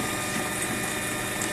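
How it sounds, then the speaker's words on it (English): A water pump returning water into a tank on a Festo process rig, running as a steady, fairly loud mechanical whir with fine ticking and gear-like rattle throughout, with no voices. "Now water's pumping back into this tank."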